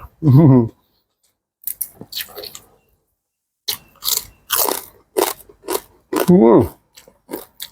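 Crisp crunching bites into grilled pork belly with crackling skin, eaten with cucumber som tam, come in short bursts between bits of talk and a hum of enjoyment.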